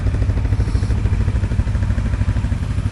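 A Loncin 550 XWolf quad's engine running steadily nearby, a dense, even mechanical rumble with a fast pulsing rhythm and no voices.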